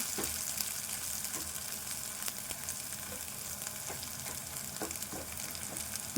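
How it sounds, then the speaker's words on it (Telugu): Green chillies and spring onion leaves frying in a hot pan for an egg fry, a steady, even sizzle with soft crackles and no voices. "ఈ పచ్చిమిర్చి కానీ ఉల్లాక కానీ మంచిగా దగ్గర ఉడకాలి ఇట్లా వేగాలి"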